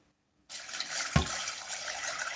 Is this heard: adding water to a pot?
yes